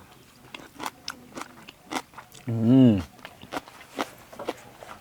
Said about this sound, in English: I think now would be a good time to dig into the cucumber kimchi.